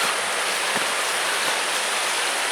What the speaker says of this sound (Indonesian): Kita udah mau nyampe nih di air terjun Tretes.